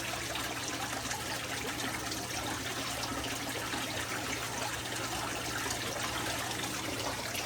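Water trickles steadily from a homemade shower at a garden koi pond, a constant splashing flow over a low hum.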